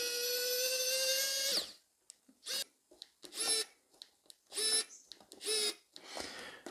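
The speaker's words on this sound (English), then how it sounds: "that's where an electronic screwdriver really comes into its own" A Sequre electric screwdriver drives a screw, opening with a steady high motor whine for about a second and a half, then several short whirring bursts separated by brief pauses.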